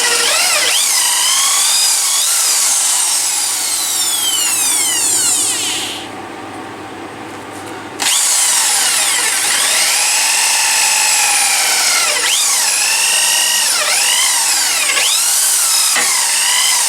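A power drill bores 10 mm holes into ash wood for a turned birdhouse, whining loudly and continuously with rising and falling pitch sweeps, a two-second dip as the bit eases off, then resuming at full load.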